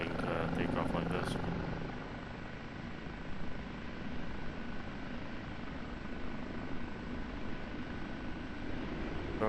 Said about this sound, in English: you would probably go ahead and do a rolling takeoff like this